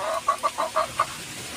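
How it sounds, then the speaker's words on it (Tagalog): A neighbour's native chicken clucks nearby in a quick run of about five short, distinct calls, fairly faint, with no talking. "Manok ng kapitbahay."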